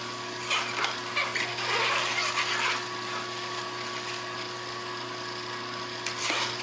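An Omega 8005 juicer grinds green leafy vegetables, a steady whirring motor hum with scratchy crunching bursts near the start, running alone at close range.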